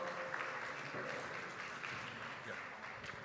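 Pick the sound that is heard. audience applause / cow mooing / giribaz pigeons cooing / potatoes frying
audience applause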